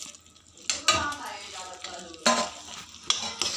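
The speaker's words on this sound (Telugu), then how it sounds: "పల్లీలు వేసుకొని తిప్పుకోవాలి" Peanuts stirred with a spoon into stringy sugar syrup for Telugu pallipatti, giving a few close, sharp scraping bursts with a soft background sizzle.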